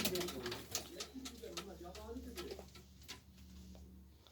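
Pigeons in a coop coo in overlapping low calls close by, with a few clicks and light rustling. A voice talks over them.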